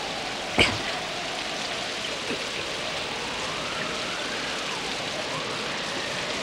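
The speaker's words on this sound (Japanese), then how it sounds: "雨だ。" Animated cartoon rain falls steadily around a half-built house with an unfinished roof, an even hiss of rain on surfaces with a sharp knock near the start and faint drips, no talking.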